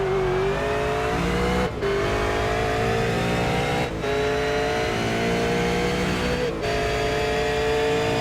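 A V8 Supercar in a racing video game, at Montreal, accelerates up through the gears: a loud, continuous engine roar rising in pitch, broken by three quick gear changes.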